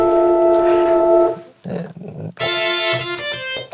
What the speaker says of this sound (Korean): 약간 FM 같은 소리.